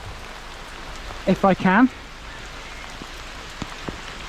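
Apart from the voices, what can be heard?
rain falling outdoors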